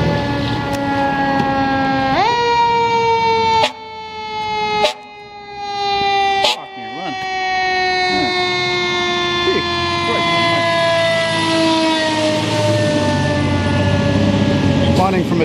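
Montreal fire trucks responding through the Hochelaga streets, sirens wailing loudly and close with rising and falling sweeps, sharp air-horn blasts breaking in partway; people talk underneath throughout.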